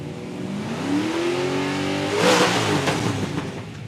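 Holden Ute engines rev on the start line at Palmyra Raceway drag strip, a rising, swelling roar that climbs in pitch and peaks loudly midway before settling into a rough, steady idle burble.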